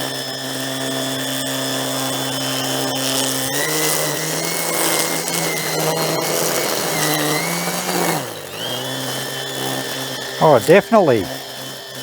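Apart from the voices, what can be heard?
Makita DUR189 cordless grass line trimmer running under load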